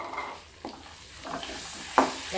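Garlic tadka for a veg Maratha kofta curry sizzles in hot oil with a steady, close frying hiss, a few soft stirring knocks and a brighter crackling burst near the end.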